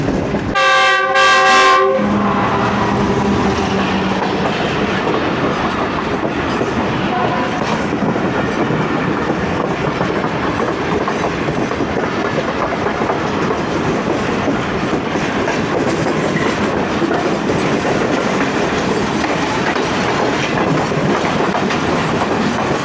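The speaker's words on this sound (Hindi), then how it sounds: "आई थिंक ये 27 अब शालीमार एक्सप्रेस होगी।" The Shalimar Express passenger train passes close by, opening with a loud horn blast and then a sustained, powerful roar of rolling wagons with rhythmic clickety-clack over the rails, heard alone without talk.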